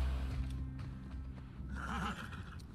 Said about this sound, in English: Well, it's good to get the horses inside.